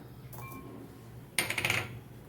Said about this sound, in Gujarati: અહીંયા આપણે એક ખાંડણી દસ્તામાં આપણે તલને પહેલાં ખાંડી લઈશું તલ અને આપણે લસણ